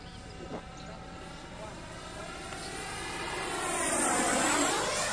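A Freewing F-86 Sabre RC jet with an 80mm electric ducted fan on a high-speed pass, its whine rising and building louder as it sweeps closer overhead, with a brief voice early on.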